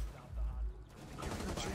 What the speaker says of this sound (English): They can't hear all the gunfire!